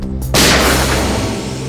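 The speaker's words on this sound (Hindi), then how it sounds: "गोली चलने की आवाज इस तरफ से," A single loud gunshot bursts out after a brief quiet, its sharp blast trailing into a long, booming echo.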